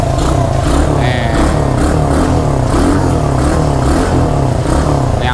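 The engine of a red ATV runs loud and close, a continuous rough motor drone with slight pulsing revs and no talk.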